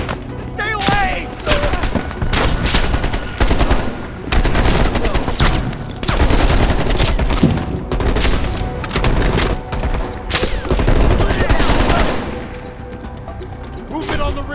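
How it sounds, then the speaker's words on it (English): Rapid gunfire in a Call of Duty Black Ops Cold War firefight, loud dense bursts of automatic shots and impacts repeating throughout, with voices shouting over the shooting. "They're shooting at us!"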